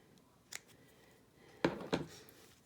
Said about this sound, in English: cut it off the roll after I get it tied and in place